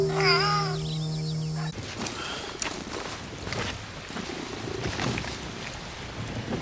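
A cat in Red Dead Redemption 2 gives a short series of wavering meows over a soft purr near the start, then the scene shifts to steady rustling ambience with faint footstep-like movement.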